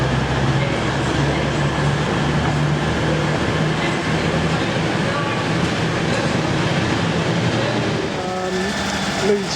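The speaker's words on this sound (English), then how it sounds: "St Pancras train has got the green light and it's off." A St Pancras-bound train pulling out of Sheffield railway station, a loud continuous rumble of rolling stock close by, with faint squeals and a station announcement or voices mixed in.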